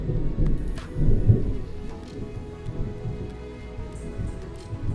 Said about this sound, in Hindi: साथ में बिजली और इतनी जोर जोर से कड़क रही है